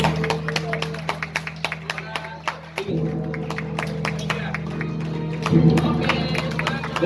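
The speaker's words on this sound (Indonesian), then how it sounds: "tepuk tangan yang paling meriah" A crowd at the Perpapindo national congress in a hotel hall claps after a ceremonial gong strike, a dense run of sharp hand claps over a sustained low hum, with voices mixed in.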